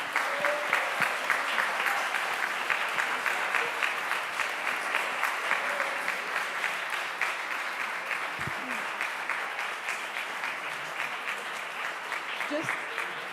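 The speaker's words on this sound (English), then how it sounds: "this will encourage another round of applause for the artists" Sustained applause from a museum audience honoring contemporary Black artists at a panel event, a dense, steady wash of clapping lasting throughout at moderate volume, with no talking over it.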